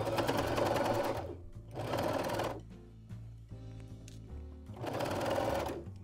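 A sewing machine runs stitches along a dress shirt being tailored at home, in three loud bursts of rapid whirring separated by a quieter pause with faint handling noise.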